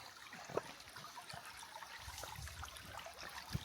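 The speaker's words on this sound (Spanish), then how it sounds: "Es satisfactorio ese sonido de río y del agua" River water flows in Trinidad, Cuba, a faint, steady outdoor trickle and rush with a couple of small splashes and no talk.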